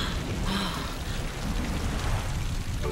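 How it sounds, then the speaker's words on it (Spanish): Rain falls steadily, a dense, even patter of drops that holds throughout with no voices. "Vaya, qué agradable y refrescante lluvia."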